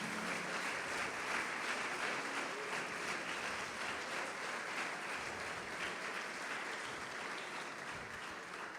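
A church congregation applauds in worship during a preaching conference, a continuous, dense, fairly loud wash of clapping that holds steady throughout without speech.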